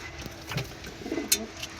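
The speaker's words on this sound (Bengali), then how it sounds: "এই যে দেখতে পাচ্ছ পায়রাগুলো, এক জোড়া গিরিবাজ ভেসা পায়রা, বিস্কুট কালার" A pair of biscuit-coloured Giribaz pigeons in a pigeon house give a few short, low coos close by, with faint rustles around them.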